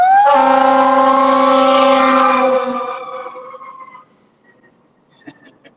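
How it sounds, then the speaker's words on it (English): A loud fire engine siren wails steadily for a couple of seconds, then fades quickly as it passes and pulls away, leaving near silence with a few faint knocks. "Guy's trying to run him over in the fire engine."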